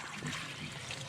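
Water leaking out and trickling steadily, a soft continuous dribbling close by, with no talking.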